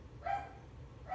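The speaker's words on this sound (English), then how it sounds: "sorry about the dogs" Dogs barking indoors during a Christmas shopping haul, two sharp close barks about a second apart with quiet room noise between.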